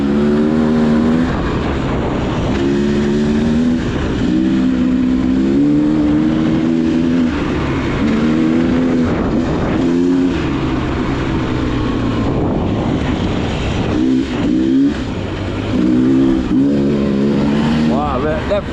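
A 2024 Beta XTrainer dirt bike engine rises and falls with the throttle, buzzing steadily up close for a long stretch while a rider talks over it.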